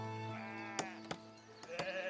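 A sheep in the medieval village-building game Foundation bleats with a drawn-out, wavering cry. A few sharp clicks cut in over it, all fairly quiet.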